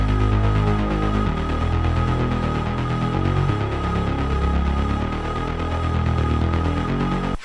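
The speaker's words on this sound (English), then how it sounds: "he adds a lot of pitched up vocals in the background and pairs it with a bass line that's kind of plucky" Progressive house style mix with high pitched-up vocal chops in the background over a plucky, bouncing bass line, steady and loud throughout with no talking.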